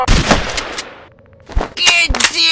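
Gunfire in a Lego zombie animation: loud, close bursts of sharp shots at the start and again near the end, separated by a brief lull with a faint ticking pattern.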